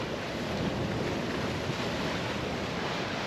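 Head-on waves slap against a sailboat under way at about six knots in an 18-knot wind, a dense continuous rush of water and wind noise with no talking.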